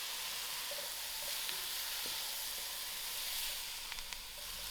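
Sweet potato pieces being stirred in a hot pan, a steady close sizzle with a few soft scraping knocks from the spoon.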